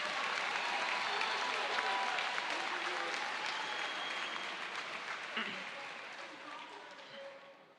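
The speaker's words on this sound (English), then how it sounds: "I want you to give them a round of applause" A graduation ceremony crowd at the Cleveland School of Science and Medicine gives sustained, dense applause for graduating classmates, steady and even, then slowly fading out toward the end.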